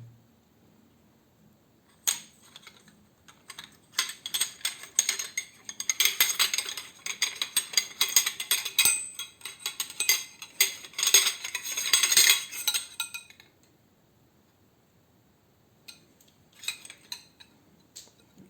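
Metal Quechua tarp tent stakes clink and rattle as they are handled, with bursts of bright jangling and clattering metal that carry through most of the stretch, then a quiet gap before a few lighter taps near the end.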